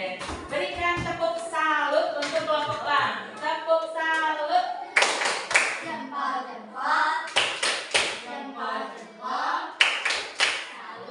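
A school class claps together in a classroom during a lesson, with bursts of applause mixed in with children's voices and rhythmic group clapping.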